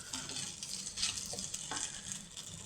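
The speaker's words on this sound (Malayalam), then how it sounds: "പാസ്ത ഇത് ഇട്ട് കൊടുത്തു." Pasta tossed into a small pan with scrambled egg, frying and sizzling steadily with a few soft stirring scrapes, close and alone.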